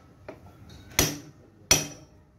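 A hammer taps a steering head bearing race out of a motorcycle frame with improvised tools, giving three sharp metallic knocks, one light followed by two louder, ringing strikes spaced under a second apart, with quiet between them.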